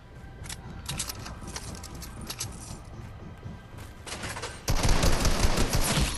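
Rapid gunfire crackles from the Fortnite video game in dense volleys, with a louder, denser burst near the end and no voices over it.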